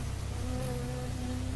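A bee buzzes in the video game Firewatch, a close, steady droning hum that holds for a moment without any talk.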